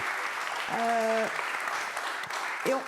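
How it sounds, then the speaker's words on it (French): Scattered clapping from a conference audience at an energy decarbonisation summit builds briefly, with a voice cutting in over it before and near the end. "On les applaudit."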